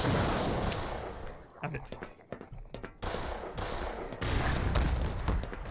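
Gunfire from a player's weapon in the video game Black Mesa, a burst of loud shots and explosive bangs in bursts across the clip, with a voice speaking over the action.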